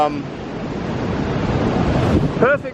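Rough, choppy ocean surf rolls and washes continuously with heavy wind buffeting the microphone, steady and fairly loud, with a brief voice surfacing near the end.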